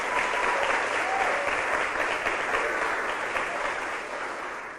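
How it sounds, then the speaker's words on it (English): An audience at a national school debate semifinal applauds both teams, a steady wash of clapping that holds even and then fades slightly toward the end. "a round of applause for both teams"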